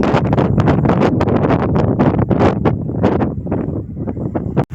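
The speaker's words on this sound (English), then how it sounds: "It's heaps windy today." Strong outback wind at Coober Pedy buffets the microphone in loud, continuous gusts and roars, with no talking.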